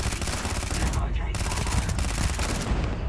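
Automatic weapon fire rattles in Starfield, dense rapid bursts of loud gunshots with brief gaps between strings, close and continuous over game noise.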